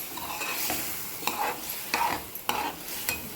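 Drumsticks go into a cooking pan and are stirred, with a soft steady sizzle of frying under several scraping stirs of a utensil against the pan, close and fairly quiet.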